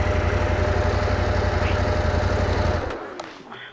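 A motorcycle on a Pyrenees trail ride idles with a steady low throbbing rumble, loud and close, then the engine cuts off and fades out, leaving faint ambient noise.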